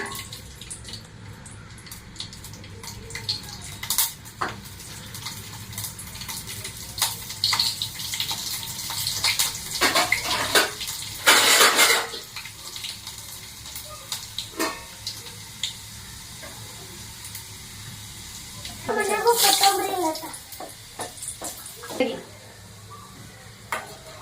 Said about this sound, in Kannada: ಈಗ ಬೆಳ್ಳುಳ್ಳಿ ಹಾಕ್ತಾ ಇದ್ದೀನಿ.